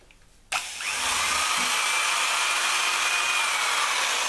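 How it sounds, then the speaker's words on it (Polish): A power drill bores a hole through the plastic casing of a Motorola TLKR T40 PMR radio for an antenna modification. A short click comes first, then a loud, steady, high whine grinds on without a break. "i bardzo ładnie już tutaj wiertło weszło."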